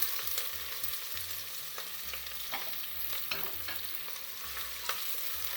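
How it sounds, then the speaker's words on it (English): Onions stirred and frying in hot oil with whole garam masala spices, a steady close sizzle with repeated scraping strokes of a spoon against the pan, no voices. "And give the onions a stir"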